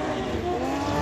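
An autocross race car with an S54 engine roars steadily on a dirt track at Aydie, its engine loud and sustained with a constant rasping drone for the full moment.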